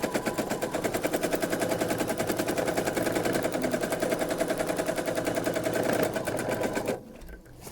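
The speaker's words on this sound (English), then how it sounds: "And I'm sewing faster" A sewing machine stitches embroidery on a bohemian spring quilt block in a steady, fast, close run of needle strokes that stops abruptly near the end.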